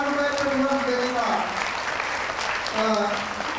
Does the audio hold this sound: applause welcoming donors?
yes